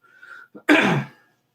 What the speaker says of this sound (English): Yes, I coughed.